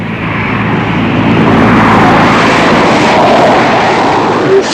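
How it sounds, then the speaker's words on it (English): A low-flying passenger jet roars overhead in a steady, loud, broadband rush that holds constant throughout, with no voices over it. "It's a plane. I think it's just some sort of passenger jet. It's very low."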